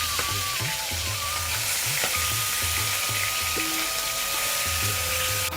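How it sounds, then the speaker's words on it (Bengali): Fish heads fry in hot oil over a high gas flame, sizzling and crackling steadily and loudly, with occasional bubbling pops over a continuous frying hiss. "এরপর তেলের মধ্যে মাছের মাথাগুলো দিয়ে দেব"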